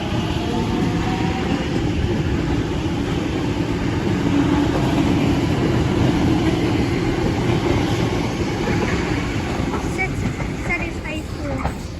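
A City Circle line train at Flemington rumbles past on the rails, a loud, dense and continuous roar with rattling wheel noise that holds steady for the whole stretch and eases slightly at the end.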